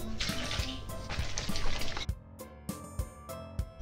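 Water poured from a cup into flour, sugar and salt for healthy pizza dough, a soft close splash and trickle over the first two seconds, followed by a few light knocks and taps with no talking.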